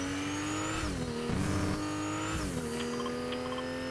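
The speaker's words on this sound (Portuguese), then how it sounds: "Caraca, mano, que carro ruim, velho" A worn, faulty car in a video game drives hard, its engine note droning and shifting pitch as it revs up and down, loud and close, with a brief tire squeal.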